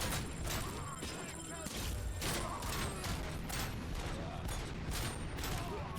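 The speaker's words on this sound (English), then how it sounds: "this gun is currently burst fire" Rapid, dense volleys of burst-fire gunfire in the RoboCop video game, with thuds and mechanical clatter in repeated short bursts that carry loudly throughout.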